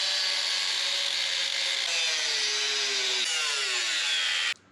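A power tool grinds and cuts through the metal dish of a headlight bucket on a 1953 Kenworth bus, a steady loud whine with shifting pitch that runs continuously before stopping abruptly.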